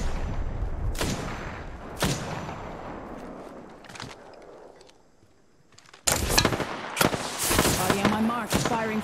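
Sharp bursts of video game gunfire crack out at intervals, then a dense cluster of rapid shots and explosive hits erupts loudly, with voices faintly mixed in.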